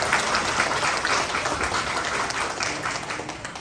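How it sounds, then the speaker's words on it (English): An audience at a community outreach celebration gives sustained applause for sponsors, performers and volunteers, a dense wash of many hands clapping that holds steady throughout before easing slightly at the end. "Please give them a warm round of applause."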